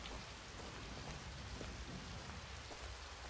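Steady rain falls in the farming game Global Farmer, a dense, even hiss of drops with no breaks, moderately loud and heard alone throughout.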